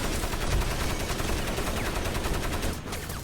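Sustained machine gun fire in the video game Crysis, loud and continuous with rapid repeated shots filling the whole stretch, easing slightly near the end.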